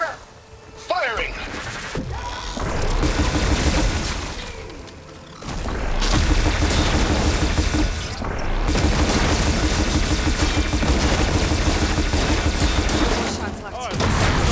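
Loud, near battle in Horizon Forbidden West: sustained rapid gunfire and heavy explosion booms keep rolling almost without pause, with brief dips, while voices call out over the din.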